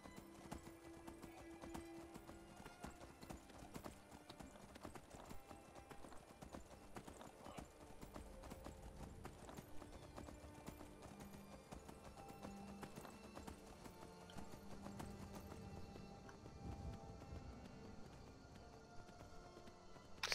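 Rapid, continuous hoofbeats of a galloping horse in the video game Skyrim pound steadily for a long stretch over a busy background rumble.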